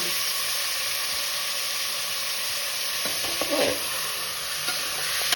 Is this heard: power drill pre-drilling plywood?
no